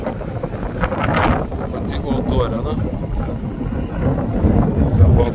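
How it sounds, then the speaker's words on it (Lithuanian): Strong wind buffets the microphone outdoors at Greenwich in London, giving a continuous low rumble with gusts, and a person talks over it throughout. "Vėjas irgi nemažas."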